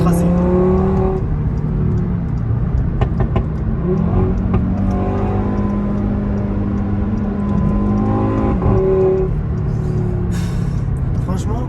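An Audi RS3 accelerates hard on a road in Dubai while racing an old 4x4, its engine note rising and falling in steady sweeps close by, with someone talking over much of it.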